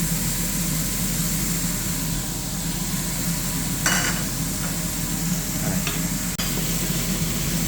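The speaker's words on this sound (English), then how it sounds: "So we're going to just mix this up a couple of times." Shrimp fried rice sizzles steadily in a hot pan while it is stirred, with a constant loud frying hiss and a few scraping strokes of the utensil over it.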